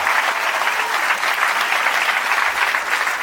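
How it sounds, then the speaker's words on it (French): A theatre audience at a comedy show breaks into loud, sustained applause, many hands clapping close and steady for the whole stretch with no talking over it. "donc on peut les applaudir"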